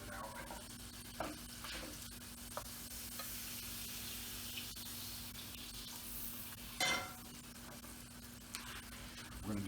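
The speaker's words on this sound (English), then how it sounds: "We're gonna do a soft scramble on the eggs." Eggs soft-scrambling in butter in a pan on a Big Green Egg grill give a faint, steady sizzle, broken by a few soft scrapes and clicks from stirring.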